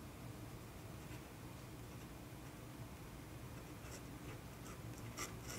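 A fountain pen drawing horses on paper, a faint scratchy scribble of nib strokes with light ticks and rubs, quiet and steady, with no talk.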